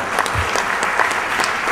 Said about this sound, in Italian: insieme a Emanuele Ladovaz, a cui chiederei un applauso.